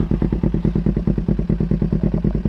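Honda CBR motorcycle idling with a leaking, burnt exhaust, giving a loud, close, rapid and even chuffing putter with a rattly edge, pulsing steadily throughout.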